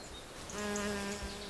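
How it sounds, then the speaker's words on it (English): Hornets at the guarded entrance of their nest in the Vosges Mountains, a faint, thin buzzing drone that swells briefly as one passes close. "The entrance to the hornet's stronghold is under strict guard."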